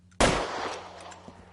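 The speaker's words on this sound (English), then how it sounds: "Just quit shooting." A single loud gunshot cracks in a video game shootout, close and sharp, then trails off in a fading echo over a low background hum.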